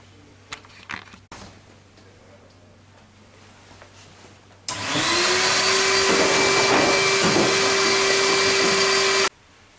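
A vacuum cleaner starts abruptly after a few quiet clicks and handling noises, then runs loud and steady with a high whine for about five seconds while cleaning out the inside of a Hoover tumble dryer, before cutting off.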